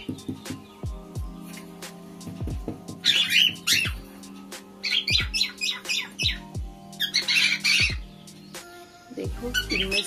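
Pet cockatiels squawk and chatter close by in repeated sharp calls and bursts of chirping, with faint talking in the background.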